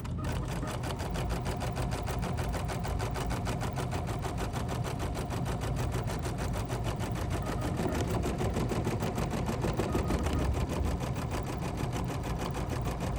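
A sewing machine running steadily through basting stitches with bobbin thread pulled up, a continuous even mechanical hum with fine rapid needle ticking throughout, fairly quiet and alone without talk.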